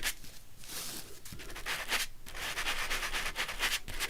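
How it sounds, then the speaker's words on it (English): Sandpaper rubs back and forth around the edge of a piece of paper ephemera, giving a close, dry scratching in repeated strokes with brief pauses between them. "So I just want to sand just a little bit around the edge."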